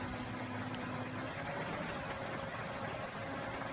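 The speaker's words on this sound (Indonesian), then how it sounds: "Oke, coba kita gas dulu" A Komatsu PC200-6 excavator diesel engine runs steadily with a constant mechanical drone, throttle held up. The machine is close and loud, and no one speaks.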